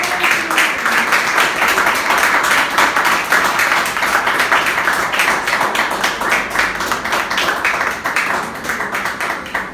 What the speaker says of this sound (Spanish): Bríndale un fuerte aplauso a Él, aleluya.